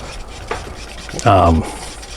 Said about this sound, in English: So now we're just going to stir to get these mixed.